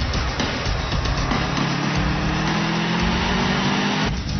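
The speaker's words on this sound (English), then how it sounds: "Oh, I love to hear that boxer engine." Car with a boxer engine and all-wheel drive cruising on a winter road, a steady loud engine drone with road and wind roar, heard from inside, with no talk.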